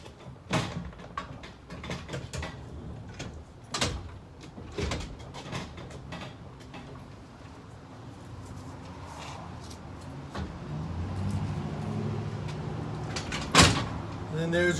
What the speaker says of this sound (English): And then there's your second door.